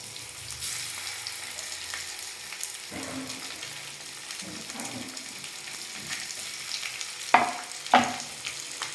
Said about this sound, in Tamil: இந்த ஆயிலில் அப்படியே லைட்டாக ஃப்ரை ஆகட்டும்